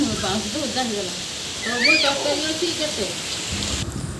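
Steady heavy rain hisses throughout while a person talks over it nearby.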